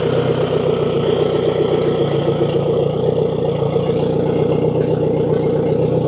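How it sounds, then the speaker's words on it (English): A repaired outboard motor runs at a steady idle, a loud, close, continuous drone with a fine rapid pulse and no voices. "So now that the engine runs good"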